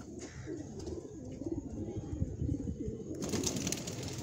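Wild pigeons cooing nearby, low soft murmuring coos repeating steadily in the background, with faint rustling and a brief flutter near the end.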